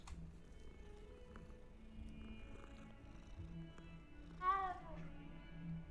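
A cat in the Hogwarts Legacy video game gives a single short meow while being petted, a faint call rising over quiet ambient game music.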